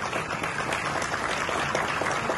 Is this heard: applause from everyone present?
yes